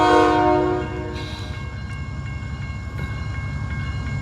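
A Paducah and Louisville Railway train with the Illinois Terminal heritage unit, at West Yard in Madisonville, Kentucky, sounds a loud chorded horn briefly at the start, then rolls past with a steady low rumble and faint rail clatter.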